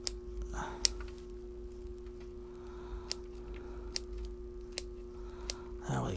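Scissors trim a plant's root mass, a series of about seven sharp, quiet snips spaced irregularly over a low background hum, with no talking.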